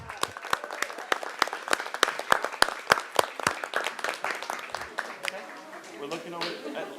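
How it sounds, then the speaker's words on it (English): Audience applause at a city council meeting honoring parents, sharp individual claps ringing out clearly in a quick rhythm before softening into a looser patter, with voices murmuring underneath toward the end. "How about a round of applause for all the mom and dads here?"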